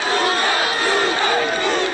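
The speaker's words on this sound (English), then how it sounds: "Heckling and shouting matches characterized the DP's meeting as rival supporters faced off." A dense crowd shouts and heckles at a political rally in Nyeri, Kenya, where rival supporters face off at the Deputy President's meeting, producing a loud, unbroken roar of overlapping voices.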